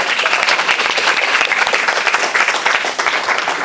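An audience applauds a student runner during a speaking skills class session, steady continuous clapping from a room full of people that holds at an even level throughout.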